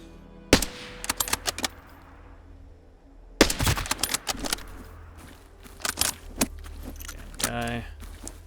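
Gunfire in a shooter video game, likely from a bolt-action rifle: a few sharp, loud reports spaced several seconds apart, each followed by clattering and rustling in-game sounds.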